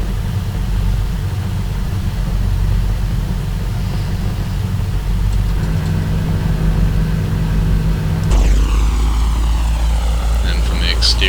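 Twin propeller engines of a Carenado Aero Commander 500 in the Prepar3D v3 flight simulator, a loud steady drone that shifts pitch partway through and rises into a brighter whine near the end, under a voice.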